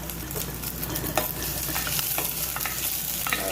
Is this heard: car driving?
no